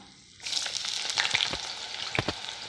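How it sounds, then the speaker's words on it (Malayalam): Jackfruit pieces dropped into hot oil for chakka chips, sizzling up suddenly after a quiet start and bubbling steadily and closely, with a few louder crackles. "എണ്ണ നന്നായിട്ട് ചൂടായിട്ടുണ്ട് അപ്പോൾ ഇതിലേക്ക് നമുക്ക് ചക്കച്ചോളം ഇട്ട് കൊടുക്കാം"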